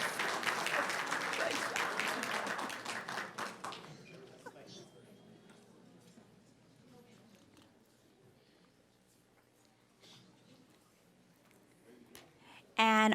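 Audience applause at a school board meeting honoring a student, a dense burst of clapping for about four seconds that thins to scattered claps and room noise, with a loud thump at the end.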